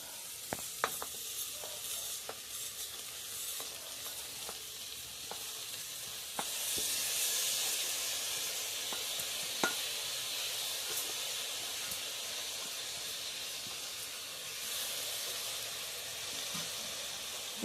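Washed Sona Masoori rice sizzles and hisses in a hot pan, a steady frying crackle with occasional sharp clicks of stirring, no voices.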